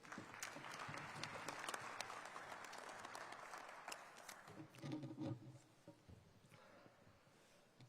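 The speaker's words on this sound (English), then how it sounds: "Please, Dr. Gaynmore, big round of applause, please." Applause from a conference audience rises into steady clapping, then thins out and fades to scattered claps near the end.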